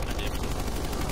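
Gunfire in a shooter video game during a match on Rig, with rapid automatic bursts layered over dense, loud game noise. The brief moment of firing likely carries voices as well.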